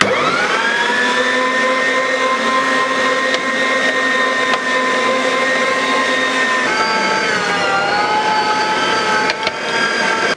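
A steady electric meat grinder motor whines and hums continuously while mincing beef, its pitch dipping briefly partway through as it labors under load.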